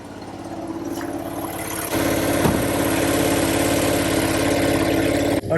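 The range-extender engine of a 2015 BMW i3 runs close by with a steady, even mechanical hum that grows slightly louder partway through.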